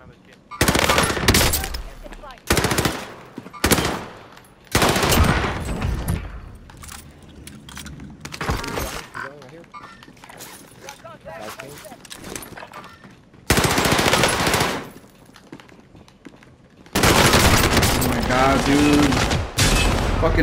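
Rapid automatic gunfire and single shots from the video game Call of Duty Warzone, loud bursts separated by quieter gaps, with players talking over the action.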